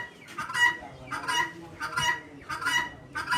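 Desi rooster and fowl at a village market stall beside rabbits and ducks give harsh, honking clucks in four evenly spaced bursts, close by and clearly heard, with no talking.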